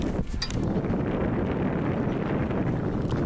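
A sailboat sailing in wind toward a beach near dunes: a steady, loud rush of wind buffeting the microphone blends with water wash, constant throughout with no talk.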